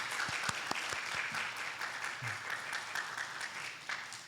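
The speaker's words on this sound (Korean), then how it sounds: "큰 박수" A church congregation at a Sunday worship service claps in welcome, a sustained round of many hands with a few sharper individual claps standing out, moderate in level and steady for the whole span, with no speech.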